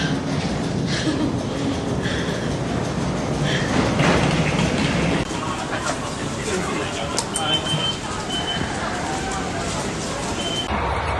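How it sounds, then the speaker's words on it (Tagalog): Riding inside a train to New Chitose Airport in snowy weather, with a constant rumbling roll of wheels and carriage noise and people talking over it. "Dito na kami ngayon sa train papuntang Shinchitose Airport."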